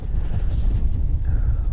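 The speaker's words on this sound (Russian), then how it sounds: "Ветер, он, с одной стороны, хотя бы, конечно, и лишний здесь" Wind sweeps across river ice during spring ice fishing on the Pechora, buffeting the microphone with a loud, steady low rumble and no talking.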